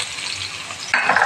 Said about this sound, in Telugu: ఉల్లిగడ్డ వేస్తున్నా ఫ్రెండ్స్.